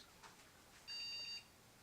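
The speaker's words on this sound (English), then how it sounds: "Oh, triple beep." An eMachines computer gives a brief, faint electronic startup beep at power-on, a thin steady tone lasting about half a second in an otherwise quiet room.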